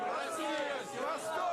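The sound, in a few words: pro-Putin crowd cheering in the streets of Moscow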